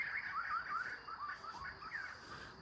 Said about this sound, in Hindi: आप सुन सकते हो चिड़ियाओं की चहचहाहट यहाँ से।